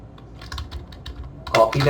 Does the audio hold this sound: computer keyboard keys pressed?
yes